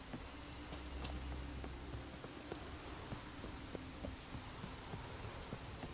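Rain in The Witcher 3 game world, a soft, steady patter of drops with scattered sharper ticks and a low rumble early on, fairly faint and continuous with no voices over it.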